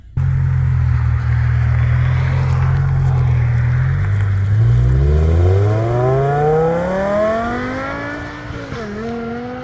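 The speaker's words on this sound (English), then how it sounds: "let's go ahead and hop on the road and see how she rips" A 2008 BMW E60 M5 engine idles with a deep, loud, steady rumble close by. It then revs up with a rising, climbing tone as the car pulls away onto the road, with no talking.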